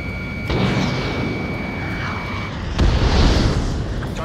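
Explosion of a destroyed target in Ace Combat 7, a loud rumbling blast surging in mid-clip over steady jet aircraft engine roar, with a lighter burst near the start.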